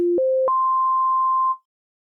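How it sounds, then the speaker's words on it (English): Pure sine tone from the Uranos synthesizer on a Maschine Plus, stepping up through three clean pitches in quick succession, then holding a steady single note for about a second before cutting off; isolated and clear. "Let's begin with a sine wave."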